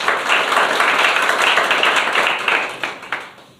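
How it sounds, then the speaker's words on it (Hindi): Students in a government school classroom in Rajgarh break into loud, dense clapping that stays strong and then thins out to a few scattered claps at the end. "आपके टीचर के लिए जोरदार तालियां बजाइए"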